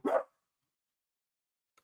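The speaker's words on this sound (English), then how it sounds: "I think JC's dog just came out to the picture" A single short dog bark sounds alone near the start, fairly close and clear against near-silence, with only a faint tick afterward.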